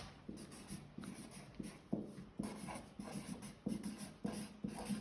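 Marker strokes squeak and scrape across a board in short repeated bursts about every half second, close and faint against a quiet room, with no talking.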